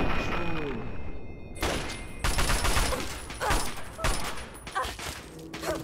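Gunfire from the video game Fallout 3 comes in loud, heavy bursts and sharp shots, close and repeated across several seconds, with a mix of crackling volleys and thumps.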